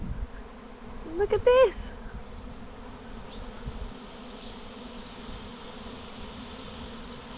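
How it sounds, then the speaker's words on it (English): A returning bee swarm buzzes as a dense, steady drone, swelling loudly for a moment as bees pass close before settling into a fainter, continuous hum; a voice speaks briefly. "I'm going to show you the bee swarms. They've literally just come back."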